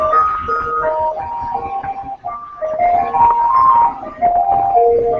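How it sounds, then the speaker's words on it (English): An ice cream truck in an Arizona street plays its tinny electronic jingle, a loud looping melody of clear tones heard alone. "That's the ice cream truck."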